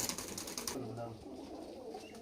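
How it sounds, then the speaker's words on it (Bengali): Rampuri pigeons coo nearby in short, low, throaty phrases, mixed with bird rustling and people talking in the background. "বন্ধুরা পায়রা দুটো দেখো, রামপুরি পায়রা"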